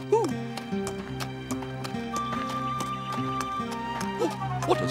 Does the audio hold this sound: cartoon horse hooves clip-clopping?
yes